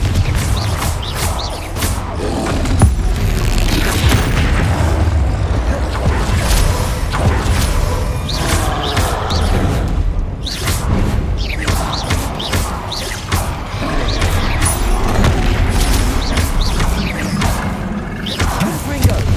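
Spell blasts, thuds and whooshing impacts from a Hogwarts Legacy combat sequence with Confringo fire spells, dense and continuous with repeated bursts over a low rumble, loud and busy throughout.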